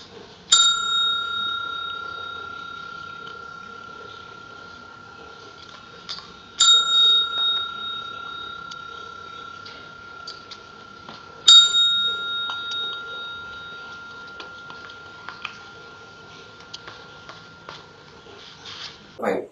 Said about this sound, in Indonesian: Nah, bunyiin belnya.